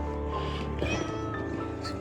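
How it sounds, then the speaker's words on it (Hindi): A cat meows nearby while following hikers on a mountain trek to a waterfall in Meghalaya, one drawn-out plaintive call over faint outdoor background sound. "यहाँ पर ये बिल्ली भी हमारे साथ ट्रैक कर रही है।"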